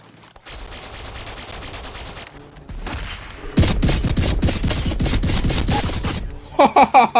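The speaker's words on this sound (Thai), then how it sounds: "ลองโบมันยิงเป็นปืนกลเลย" A Longbow rifle in Apex Legends Mobile fires rapidly like a machine gun, producing a dense, loud burst of close gunfire for several seconds, followed by a few separate sharp shots.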